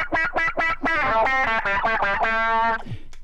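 Electric guitar played through an effects preset, its notes quacking and warbling like a duck, a quick run of plucked notes followed by a long, sustained bending tone that drops away at the end.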